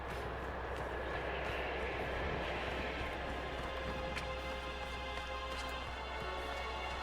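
An airplane flies through a sudden storm in the video game Tomb Raider Definitive Edition, a continuous engine drone blended with rushing wind that holds steady and loud throughout.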